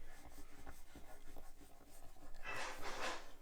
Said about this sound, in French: Et après, on vient gommer.